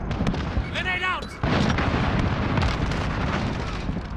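A grenade explodes in the video game Call of Duty: Modern Warfare, a heavy boom that cuts in loudly and then rolls on as sustained low rumble, with a short radio-like voice chirp just before it.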